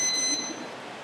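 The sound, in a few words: NFC card reader double beep when card read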